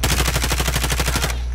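Rapid automatic gunfire from Call of Duty: Modern Warfare, a loud, steady stream of evenly spaced shots that stops abruptly near the end.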